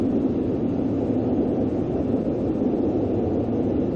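Cessna Citation S550 jet engines throttled back on approach in X-Plane, a steady low rumbling drone with a broad hiss, continuous and even in level throughout.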